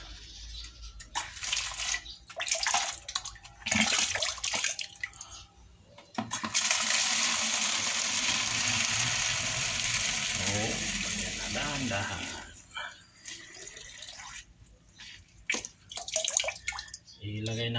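Water is poured into a drip irrigation container for orchids, a sustained splashing, rushing fill lasting several seconds, loud and close, preceded and followed by handling clatter.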